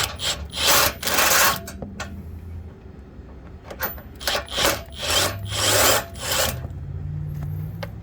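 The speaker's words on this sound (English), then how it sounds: "These are the screws you need to take off in order to remove your pump. So let's take these out." 10 mm screws are removed from the power steering pump of a 2011-2014 Chrysler 300, with close bursts of rasping, ratcheting tool noise separated by short pauses and no talk.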